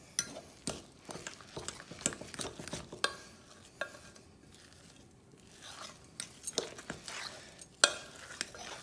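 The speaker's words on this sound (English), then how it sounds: "So then I'm gonna put in some tapioca, and I'm gonna kind of stir it around" Tapioca and cassava flour being stirred in a bowl for sweet potato tortillas, a quiet scraping and rustling with irregular soft clicks and crunchy scrapes, close and without talk.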